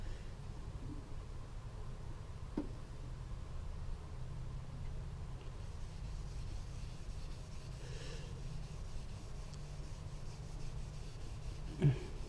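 Soft, steady rubbing of a cloth wiping finish onto the wooden stock of a Winchester 94 rifle, close and quiet with a faint continuous hiss and a small knock near the end, no talking.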